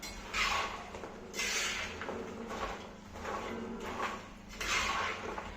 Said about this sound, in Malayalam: കുറച്ച് നേരം തന്നെ നമ്മൾ ഇളക്കി കൊടുക്കുക